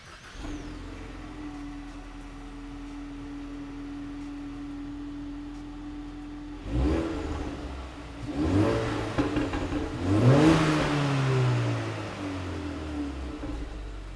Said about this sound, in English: we're going to give you some clips of the stock exhaust.